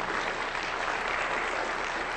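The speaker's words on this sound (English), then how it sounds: "give them a round of applause." Audience applause at a talk, a brief, even burst of many hands clapping, moderately loud and steady throughout.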